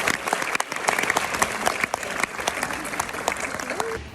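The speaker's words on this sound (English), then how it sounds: "let's give ourselves a big round of applause" A room full of new students applauds at college orientation, brisk and fairly close, with scattered cheers and voices under the clapping before it fades at the end.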